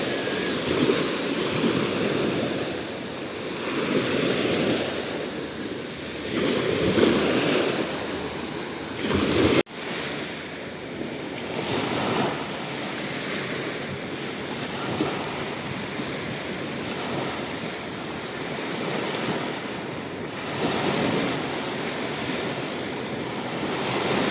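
Sea waves wash onto a shore in Albania, a steady rolling surf with periodic swells under a constant rush of wind, loud and close throughout.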